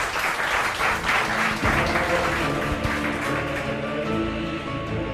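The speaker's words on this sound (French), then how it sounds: "Je vous demande d'applaudir la fondation Éric Jean-Baptiste." Audience applause at a summer event, a dense sustained wash of many hands clapping, loud and even throughout, with a faint murmur underneath.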